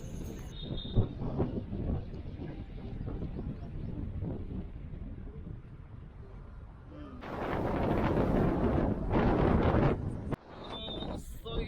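A cool wind blows across Kas road, a steady low buffeting that swells into a loud gusty roar for a few seconds before dropping away.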